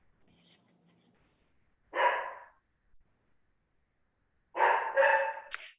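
A pet dog barks at home during an online camera club competition, one sharp bark followed later by a quick double bark, close and clear against near silence.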